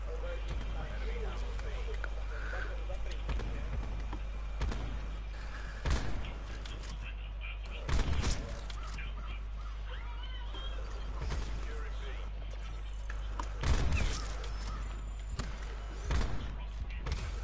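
Sharp bursts of video game gunfire crack out in scattered volleys every few seconds, while people talk quietly underneath the shots.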